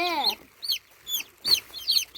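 Chickens cluck in short, repeated bursts close by, about five calls spaced roughly half a second apart, with faint background noise between them.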